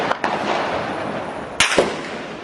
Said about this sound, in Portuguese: No entorno da agência, tiros são disparados para o alto.